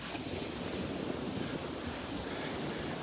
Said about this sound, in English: Those waves are stronger than they look.